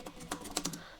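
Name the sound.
typing on a computer keyboard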